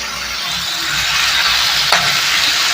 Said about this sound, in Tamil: உப்பு சேர்த்து நல்லா வதக்கி விட்டுக்கலாம்